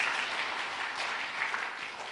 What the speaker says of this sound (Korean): 정말 괜찮으면 박수도 쳐주고.